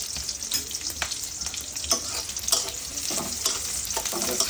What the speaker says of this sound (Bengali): পেঁয়াজ কুচিটা একটু আমরা ভেজে নেব